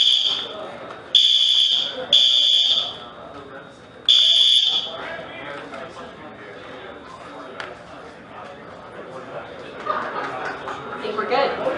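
A building fire alarm sounds in three loud, piercing electronic bursts near the start, then cuts off, leaving a room of murmuring people and soft chuckles.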